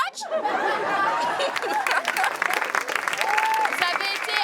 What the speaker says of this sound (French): Franchement, bravo à vous, je vous applaudis.